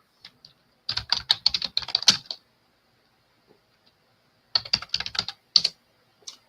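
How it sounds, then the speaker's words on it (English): Fingers type on a computer keyboard in two quick bursts of crisp clicking keystrokes separated by a quiet pause, close and clear, with no voices. "Sorry, I was typing in."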